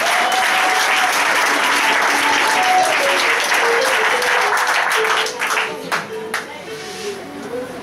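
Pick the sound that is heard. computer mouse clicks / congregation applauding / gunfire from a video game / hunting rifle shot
congregation applauding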